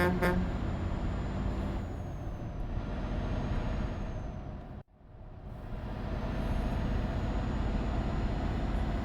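A big truck driving in Euro Truck Simulator 2: a loud, steady engine drone with a faint whine. It cuts to silence for a moment midway, then swells back to full strength.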